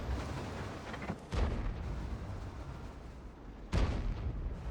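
Leopard 1 tank cannon fire in World of Tanks: two heavy, booming shots spaced a few seconds apart over a constant loud rumble of battle noise, with no talking.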